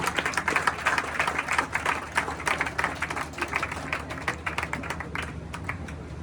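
Students applaud together to welcome an announcement: many hands clapping in a dense, steady patter with sharp individual claps standing out, sustained and fairly loud throughout.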